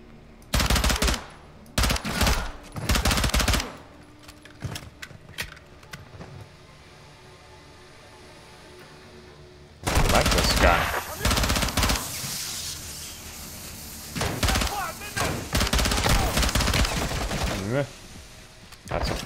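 Loud, close automatic weapon fire in the Modern Warfare 2 campaign, with several short chattering bursts, then a long quiet stretch, then a second extended run of heavy rattling volleys.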